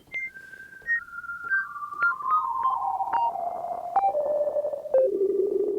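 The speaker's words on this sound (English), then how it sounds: "It's a single oscillator," A single-oscillator synth patch in Native Instruments Absynth 5, through filter and waveshaper, with a sonar-like ping sliding steadily downward in pitch, punctuated by short clicky blips roughly every second, with no voices.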